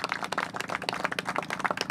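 Scattered applause for the city manager at an outdoor ribbon cutting for two new murals in Tallahassee, a thin, fairly faint patter of individual claps, no voices over it.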